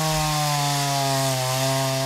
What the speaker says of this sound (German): Voll zuerst einfach mit den Kettensägen anfangen.